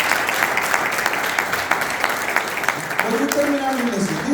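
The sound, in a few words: church congregation applause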